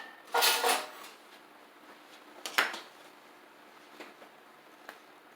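In a home kitchen during lemon pound cake baking, a hand rummages through a drawer for a spatula: a couple of sharp clattering rattles of utensils, then a few faint clicks and taps in a quiet room.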